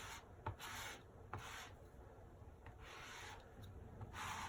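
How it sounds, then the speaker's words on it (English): A 4-inch handled squeegee rubbing chalk paste over a stencil, producing close, faint scraping strokes in a repeated back-and-forth rhythm, each swipe a soft gritty rasp. "I can use my 4-inch handled squeegee because this area is nice and open."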